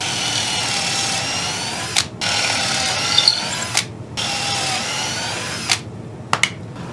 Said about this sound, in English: I'm just going to do some pocket holes in the face where it meets the sides